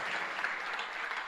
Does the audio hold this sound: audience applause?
yes